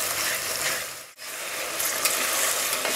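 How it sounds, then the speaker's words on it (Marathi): Onion and tomato sizzling in a pan for chicken biryani, a close, even frying hiss that dips briefly for a moment before resuming, with faint clicks and scrapes. "त्यात आपण आता टोमॅटो घालणार आहोत"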